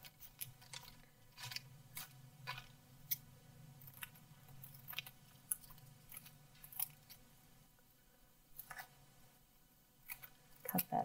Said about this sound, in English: Cut that netting off.